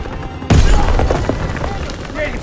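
A sudden loud grenade blast in Call of Duty WWII bursts in after a brief lull, followed by a dense rumbling tail and scattered gunfire, with voices shouting over the combat.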